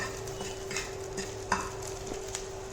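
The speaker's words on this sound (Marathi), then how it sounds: "लसूण थोडंसं परतायचं आहे" Crushed unpeeled garlic cloves sautéing with chana in a pan, a quiet low sizzle with a light scrape of stirring and one sharper clink near the middle; no one talks.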